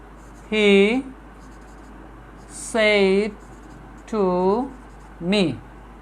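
Chalk writes on a classroom board during an English lesson, making four separate high, squeaky strokes with quiet gaps between them.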